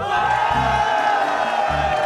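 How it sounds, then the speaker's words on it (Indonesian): A studio audience at a family game show cheers and applauds for the family on the left, a dense steady crowd roar with bursts of low whoops and shouting throughout. "Tepuk tangan untuk sebelah kiri."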